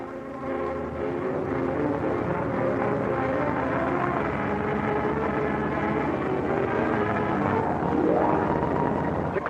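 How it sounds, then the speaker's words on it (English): Bomber aircraft returning from a mission over the Aleutian Islands in 1943, a steady, loud droning engine roar that holds unbroken throughout, with a slight swell near the end. "Bombers went out, and 6 are coming back"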